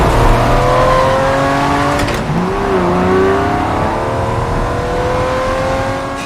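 A race car engine from Ford v Ferrari revving hard, loud and close, its rising and falling pitch sweeping through gear changes with a brief tire-squeal or passing whoosh partway through, no talking.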